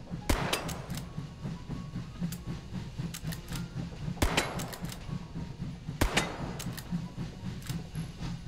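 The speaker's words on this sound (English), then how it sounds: "Now, let's do some shooting." Gunfire in the VR shooting game Hot Dogs, Horseshoes & Hand Grenades: a few sharp, sparse shots with long gaps between them over a quiet background.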